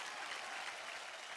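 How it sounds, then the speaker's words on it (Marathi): Studio audience applause for a contestant named Pooja on a Marathi televised dance competition, a steady, dense wash of clapping over a short stretch at moderate level. "जोरदार टाळ्या होऊन जाऊ द्या पूजासाठी"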